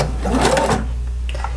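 A sewing machine back stitching across grosgrain ribbon while making a pacifier clip, a close, steady motor whir with needle clatter that runs for about a second before slowing and fading into quiet.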